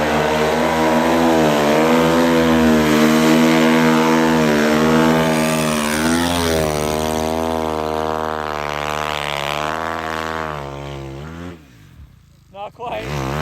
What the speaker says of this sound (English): Here comes the snow bike.